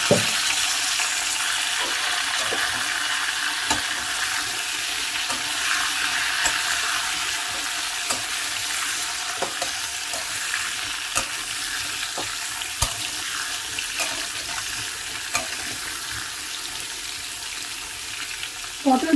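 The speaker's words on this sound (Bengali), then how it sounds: "পটলগুলো ভেজে নেব।" Halved pointed gourd (potol) pieces frying in oil, giving a continuous hissing sizzle with occasional light pops and clicks, close and steady, without voices.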